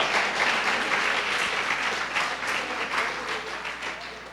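Church congregation at a Nova Vida service in Catete breaking into sustained, dense applause that stays loud and even for several seconds without any speech.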